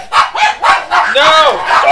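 Several dogs bark repeatedly in quick bursts close to a microphone, loud and overlapping, with some higher yipping mixed in.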